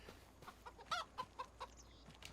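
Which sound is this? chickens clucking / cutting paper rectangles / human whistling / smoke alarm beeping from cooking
chickens clucking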